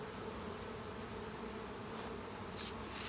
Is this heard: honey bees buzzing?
yes